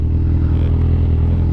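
A 1000cc motorcycle engine drones steadily while climbing a steep mountain road on the Asin route in Tuba, Benguet, a loud, continuous low rumble with no break and no talk.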